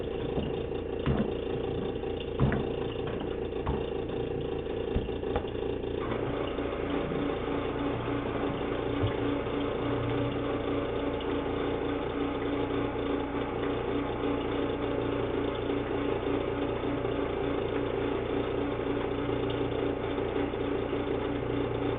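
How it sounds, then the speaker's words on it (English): A clay tile extruder machine running steadily, a continuous mechanical hum and drone with a faint rhythmic churn, close and unbroken, with no talking over it. "I'm going to stop the machine and feed in a little bit more clay."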